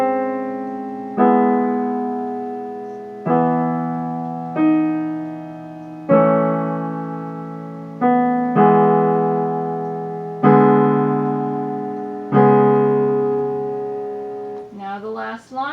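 Piano plays a slow sequence of sustained chords from Rachmaninov's Piano Concerto No. 2 Adagio Sostenuto, each struck clearly and left to ring and decay before the next; calm, alone, ending with a brief run.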